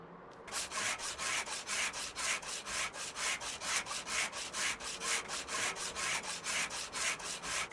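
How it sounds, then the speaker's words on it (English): An angle grinder works a car wheel arch in Car Dealer Simulator, giving a steady rapid rhythmic rasping scrape that pulses evenly and stays close and moderately loud, with no talking. "you put the angle grinder about here, and it just gets that"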